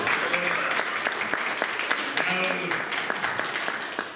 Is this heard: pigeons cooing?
no